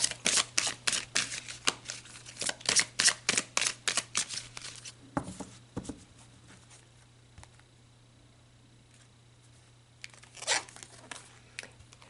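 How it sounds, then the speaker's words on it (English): An oracle card deck being shuffled by hand, with rapid rhythmic riffling and slapping in quick bursts, then a quiet pause and a final brief shuffle as a card is pulled. "So let's pull you an oracle card."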